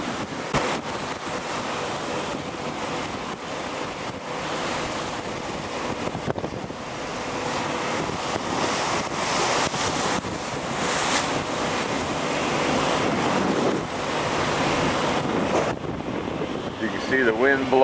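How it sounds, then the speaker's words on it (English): Rough open-ocean waves break and churn in strong wind on the Drake Passage, a loud continuous roar of surf and wind buffeting the microphone, with spray torn off the crests and swells surging through the whole stretch. "See the wind blowing water off the top of those waves when they break."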